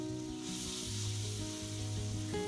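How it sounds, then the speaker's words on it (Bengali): Nigella seeds and green chili paste hit hot oil for an okra and potato dish, making a steady, moderately loud sizzle that holds without a break, with a faint background hum. "এবারে ওই একই তেলে অ্যাড করে দিচ্ছি কালো জিরে।"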